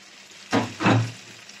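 Chicken pieces sizzle and hiss as they are stirred and fried in a pan for khichuri, two short bursts of loud frying noise rising and fading, close by.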